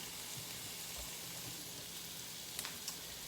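Sausage fries over medium heat with a quiet, steady sizzle, faint and continuous, with a couple of tiny pops and clicks toward the end.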